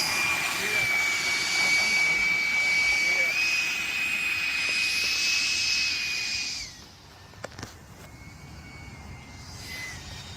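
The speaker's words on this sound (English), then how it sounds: "he was out flying his HSD jet" A radio-controlled HSD model jet flies over a groomed grass runway field, its turbine giving a loud, steady whistling roar that shifts pitch as it passes, then fades to a distant hiss.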